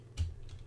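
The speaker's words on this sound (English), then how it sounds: "I type a note" A few quick, soft keystrokes tap on a computer keyboard in a quiet office, brief and faint with no voices.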